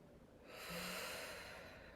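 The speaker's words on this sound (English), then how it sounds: "And breathing." One slow, deep breath taken during a relaxation breathing exercise, a soft airy inhale swelling up and lingering close and quiet.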